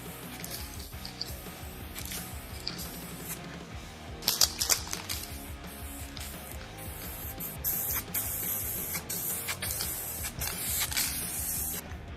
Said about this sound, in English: As you can hear, I agitate the can a lot between spraying.